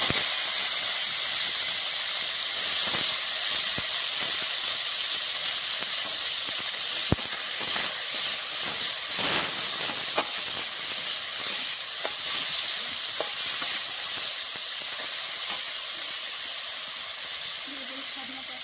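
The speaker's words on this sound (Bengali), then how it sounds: "মরিচ গুঁড়ো দিয়ে ভালো করে আলুটা ভেজে নেব।" Chopped potatoes fry in a pan with green chillies and chilli powder, giving a steady, close hiss and sizzle with scattered crackles and pops throughout.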